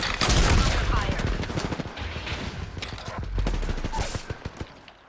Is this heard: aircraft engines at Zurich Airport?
no